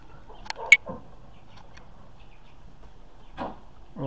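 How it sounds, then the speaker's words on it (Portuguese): Young chicks raised at home give a few brief, high, scattered peeps, with a tight pair early on and another cluster later, over a quiet background. "E ali os pintinhos."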